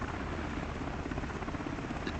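A military helicopter in flight near an airfield taxiway where an IL-76 transport sits, its steady, loud rotor and engine roar filling the whole stretch without a break.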